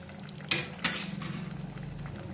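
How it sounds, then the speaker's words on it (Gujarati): Paneer cubes tipped into a pan of spiced masala gravy for Punjabi paneer curry, giving two soft clinking thuds against the pan followed by a low steady sizzle and simmer, with no voices. "તો હવે આપણે એમાં નાખી દઈએ પનીર"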